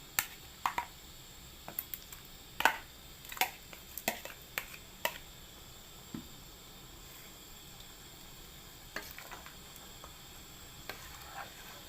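Beef tipped into curry paste in a hot pan for a Thai beef and bamboo shoot curry, giving a soft steady sizzle broken by a run of sharp clicks and spatters, mostly in the first half.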